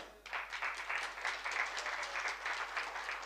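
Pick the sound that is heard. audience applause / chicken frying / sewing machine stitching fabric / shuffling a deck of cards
audience applause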